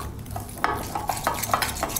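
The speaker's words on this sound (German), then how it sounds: "Dann wird die Butter mit dem Puderzucker verrührt" Butter and powdered sugar being stirred together in a bowl, with a run of quick, close scraping strokes and light clicks of the utensil against the bowl, heard alone.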